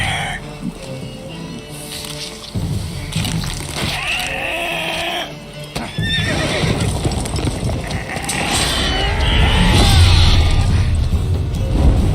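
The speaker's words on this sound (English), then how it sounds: "There goes the horse." Hooves clatter and thud amid shouting and commotion in The Witcher 3 video game, with a horse's whinny rising briefly through the noise near the end.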